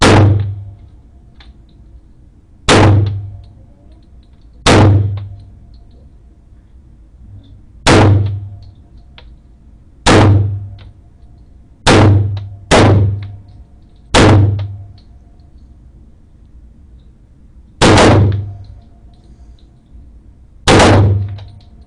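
Ten single gunshots from an RIA 1911 pistol chambered in .38 Super, each a sharp loud crack with a short ringing decay, fired at irregular intervals of one to three seconds with quiet between them.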